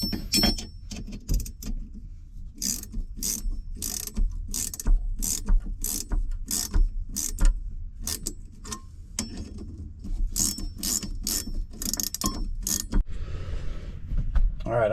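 Ratchet clicking as a harmonic balancer puller kit is worked on a 1994 Sea-Doo Bombardier personal watercraft engine, a long run of sharp, rapid metallic clicks in bursts with short pauses, close and fairly loud.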